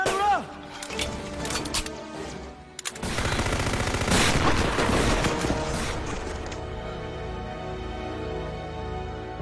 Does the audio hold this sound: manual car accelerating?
no